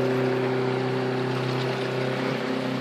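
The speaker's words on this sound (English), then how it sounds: "that's running a Yamaha 115 horsepower 4-stroke jet outboard engine" A Yamaha 115 horsepower 4-stroke jet outboard engine on a Kingfisher boat runs with a steady, loud, close drone and strong low hum, with no voices over it.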